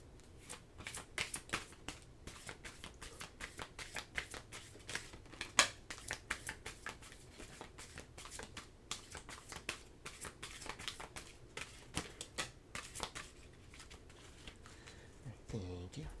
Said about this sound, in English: Let's get back to shuffling.